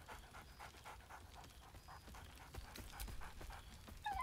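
Scratch, a dog in Baldur's Gate 3, pants in quick rhythmic breaths with a soft whine, fairly faint and close, over low background ambience.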